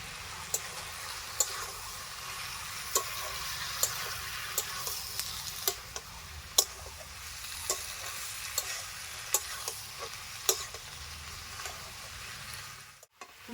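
Jackfruit and chicken cooking in a pan with fried potatoes and a little butter, an even sizzle broken by regular crisp clicks of a spatula stirring, close and steady.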